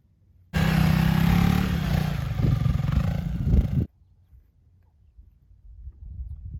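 A 2022 Honda CRF300L single-cylinder engine revs and rumbles up close for about three seconds, growling and rising, then stops abruptly, leaving quiet wind.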